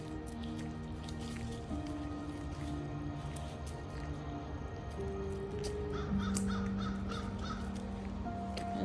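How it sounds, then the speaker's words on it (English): Crows caw repeatedly from a distance on a hill hike, faint harsh calls scattered over a soft outdoor background with some tapping and rustling, and no talk. "I like listening to the crows."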